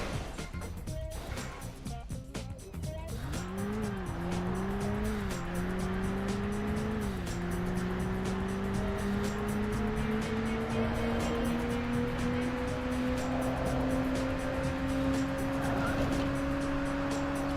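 Race cars roar through a Burnout race on GameCube, engines whining in rising, steady pitch that swoops and climbs as they speed, with loud sustained motor drone and brief skidding early on.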